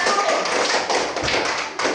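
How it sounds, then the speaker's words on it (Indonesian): Children in a classroom, after a group noodle-making activity, give group 1 a brief, dense burst of clapping, loud and close, with voices mixed in. "Oke, tepuk tangan buat kelompok 1."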